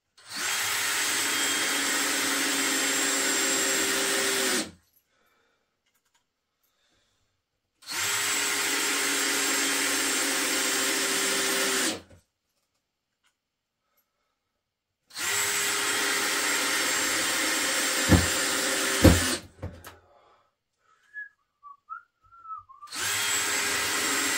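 A Dewalt DCD709 drill or DCF850 impact driver runs in three long, steady whining bursts of about four seconds each separated by silence, loud and close, with a few clunks and a fourth run starting at the end.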